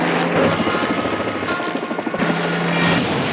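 Helicopter in a film scene, a steady, loud rotor drone that fills the whole stretch without voices, holding close and constant throughout.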